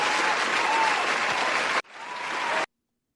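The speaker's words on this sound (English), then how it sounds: "I just want to give applause to all the people" Loud audience applause, dense crowd clapping that breaks off abruptly partway through, then resumes briefly and swells before cutting to silence.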